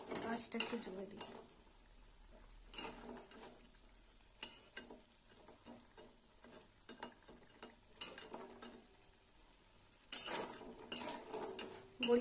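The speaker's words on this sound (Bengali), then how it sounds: "বড়িটা আবার তুলে নেব" Fried bori lentil dumplings being stirred and lifted from a hot pan, with intermittent metal scraping and clinking in short bursts over a quiet sizzle, close and moderately loud.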